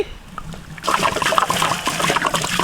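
Water pours and splashes steadily into a cooking pot over a whole goat's mutton for biryani, a continuous trickling, sloshing rush that starts abruptly and carries on close by.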